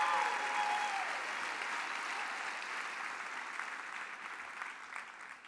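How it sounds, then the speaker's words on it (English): A large audience at the 88th Kansas FFA Convention gives a round of applause, a broad, even roar of clapping that holds steady and slowly tapers, with a brief voice at the start. "Give these 2 a round of applause"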